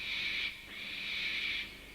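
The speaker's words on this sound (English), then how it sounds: "It was only an owl, but Percy didn't realise this." An owl calls at night in the Thomas the Tank Engine story, two long breathy tones near the shed, a steady hoot, a short gap, then a second longer hoot, with no talking.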